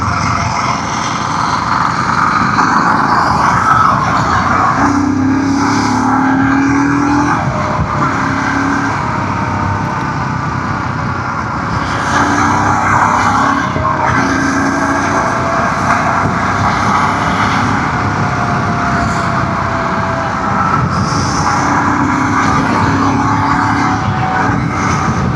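A Royal Enfield Scram 440 motorcycle engine drones steadily at speed on an open road, with wind rush and occasional shifts in engine pitch throughout.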